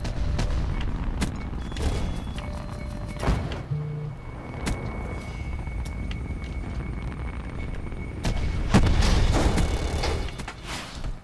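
Gunfire in the Black Ops 4 multiplayer Stockpile mode: scattered sharp shots and bursts over a steady background of game noise and rumble, mid-distance and moderately loud, with no voices.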